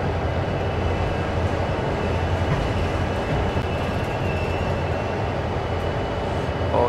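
A train rolls along in the video game Train Sim World, a steady loud rumble of wheels and engine with a low droning hum throughout, close and continuous without talk.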